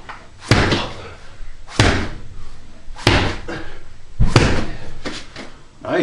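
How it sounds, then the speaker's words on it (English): A homemade medicine ball slammer slammed to the floor in a workout: four loud, heavy thuds spaced about a second and a quarter apart, each with a short ringing tail, and quieter movement noise between them. "So I'm gonna try some slams out"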